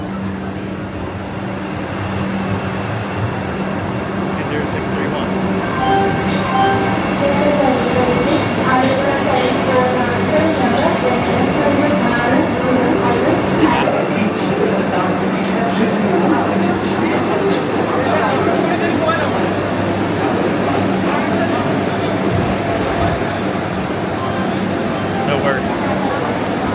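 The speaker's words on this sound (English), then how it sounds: "There's a train coming, maybe that's ours." Rumble of an approaching Vande Bharat Express train under station crowd noise and nearby voices in Kochi, Kerala, India, with a continuous rolling drone through most of the recording.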